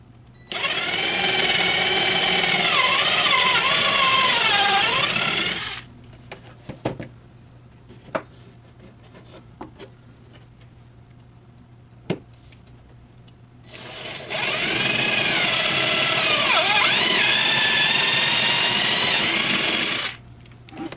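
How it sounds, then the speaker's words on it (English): A power drill whines loudly for several seconds drilling holes into wood. Quiet clicks and handling sounds follow, then the drill runs again at length. "And I'm going to drill my holes out."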